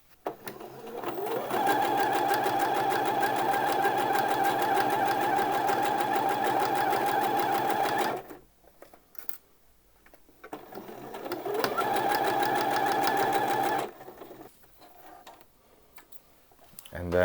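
A sewing machine stitches along the short edge of a waistband for Thai wrap trousers, running in two long, steady, rattling passes of several seconds each with a quiet, clicking pause between.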